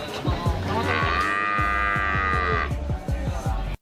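Cattle moo in a cow shed at an army base in Kartasura: one long, loud drawn-out low moo, with further shorter lowing calls and shuffling around it. No talk is heard.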